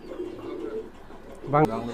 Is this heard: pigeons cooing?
yes